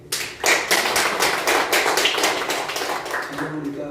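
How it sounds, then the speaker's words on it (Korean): Audience applause in a meeting room at a low-carbon industry forum held in the National Assembly members' office building: dense, steady clapping that lasts throughout, with a busy, crowded texture. "박수가 100명분이 나오네요"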